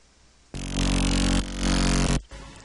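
A heavy electro house bend bass synth blasts out in two loud, sustained, buzzing bursts, rough and distorted across the whole range, with quieter musical material beneath it before and after.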